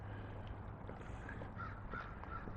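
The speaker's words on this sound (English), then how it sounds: "Good morning, crow." A crow cawing out in a park at South Wascana Centre in Regina on a summer morning, several harsh caws repeated over a steady wash of outdoor background noise, moderately distant.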